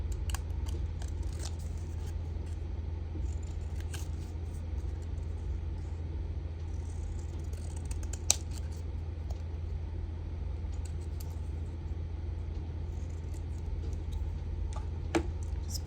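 Scissors cutting a paper word from craft scraps, with sparse, sharp snips scattered over a steady low rumble.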